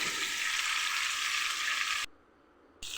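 Steady, bright sizzle of fish frying in hot oil, close and loud, cutting out abruptly for a moment before the crackle resumes.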